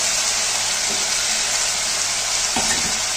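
Fried potatoes tossed into poppy seed paste cooking in oil for Bengali aloo posto give a steady, close hiss of sizzling, with a brief utensil clatter near the end.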